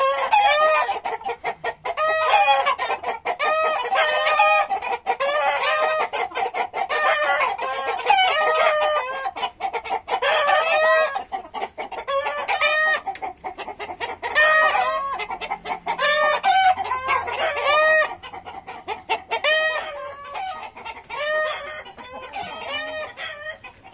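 Free-range native village chickens cluck densely and a rooster crows repeatedly nearby, a busy, continuous flock chorus with overlapping calls and no talking.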